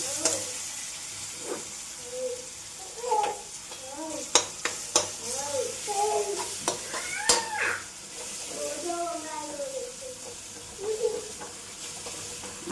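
Garlic chutney tempering in a hot pan for a home-cooked chickpea curry, with soft sizzling, scattered sharp spoon-on-pan clicks while stirring, and someone talking over the cooking.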